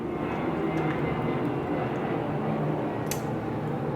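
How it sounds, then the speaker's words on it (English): Steady broad roar of an airplane passing overhead, continuous and moderately loud, with a few faint clicks near the end. "You're probably hearing the airplane right now"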